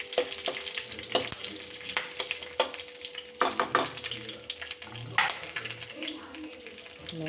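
Fenugreek seeds fry in a pan, crackling and sizzling steadily with sharp stirring scrapes and clinks of a utensil. A faint background hum runs underneath, and no one speaks.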